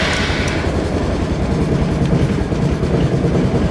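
A 2004 Honda Reflex scooter engine idles after a cold start at 14°F, a loud, steady mechanical drone that runs without a break and with no talking.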